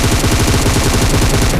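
Rapid automatic gunfire from a mobile shooter video game, a continuous loud burst of evenly spaced shots filling the whole moment without pause.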